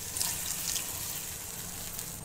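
Water poured steadily into a pan of paneer and pea curry in a home kitchen, a continuous close splashing rush throughout with no talk.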